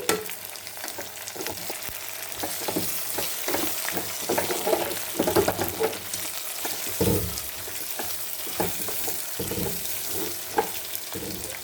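Toor dal lentils fry in a pan for menti pappu, giving a steady close sizzle broken by frequent scrapes and knocks of a spoon stirring, with some splashing water sounds mixed in and no talking.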